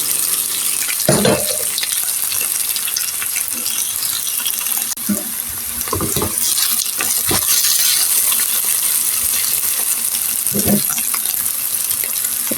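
Pumpkin pieces fry in a pan with a loud, continuous sizzle, punctuated by several scraping, clattering stirs of a spatula spaced a few seconds apart.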